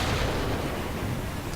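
A tank cannon fires at a Panzer 70 in War Thunder on the Tank Polygon map, a deep, rumbling boom that fills the short moment at close range.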